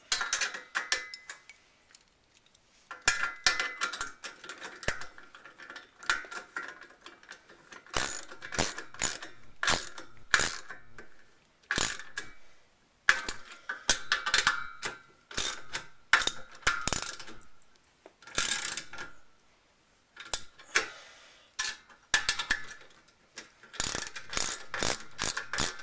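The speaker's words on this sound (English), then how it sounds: "Take your other washer, put it on the other side, put your nut on, now you can tighten it up." A nut being tightened onto a bolt with a ratchet wrench while assembling a Lifetime dual compost tumbler, heard as close bursts of rapid clicking separated by short pauses.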